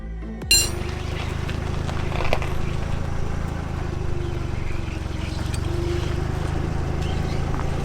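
A Ford E350 van's 7.3 Powerstroke turbo diesel cranks, catches with a sudden burst and then settles into a steady, loud clattering diesel idle that runs on alone to the end.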